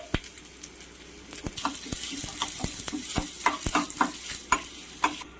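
Onions frying in hot oil, a continuous close sizzle broken by repeated sharp scrapes of a spoon stirring the pan in quick succession.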